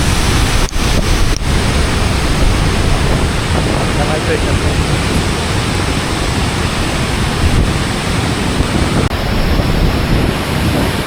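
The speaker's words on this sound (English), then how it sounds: "Yeah, this is a bit wild. These are the waterfalls." Ban Gioc waterfall in northern Vietnam roars in a steady, dense broadband wash that fills the whole stretch without a break, heard up close with wind buffeting the microphone now and then.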